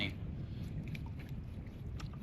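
Strong wind buffets the microphone while kayak fishing in saltwater off Corpus Christi, Texas, a steady low rumbling roar throughout with faint, scattered water and gear sounds.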